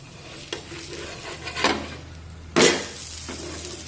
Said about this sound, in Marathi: आता दोन ते तीन मिनिटे झालेली आहेत हे थालीपीठ आपण पलटून घेऊया